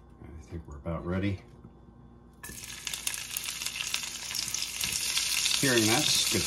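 Fiddlehead ferns hit a hot small non-stick pan on a clean stove and burst into a loud, steady sizzle and crackle that swells over several seconds, with a person talking briefly before and during the frying.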